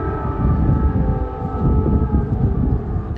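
An air raid siren in wartime Ukraine wails steadily and loudly over a low rumble, sustained throughout with no talking.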